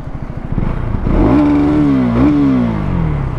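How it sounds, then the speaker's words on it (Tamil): Exhaust note of a KTM Duke 250 Gen3 motorcycle revved hard and close, the engine climbing to a high held pitch, dipping briefly, rising again, then falling back toward idle. "அண்ட் வண்டியோட எக்ஸாஸ்ட் நோட்"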